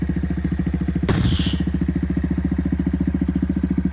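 A Honda Monkey motorcycle with a full exhaust system idles steadily in a fast, even putter, broken by a brief loud rev or starter burst near the start before the idle settles and continues alone.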